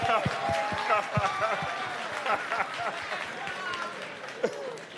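An audience at a Brooklyn town hall meeting gives a burst of applause that tapers off, with scattered claps, a whoop and voices talking over it.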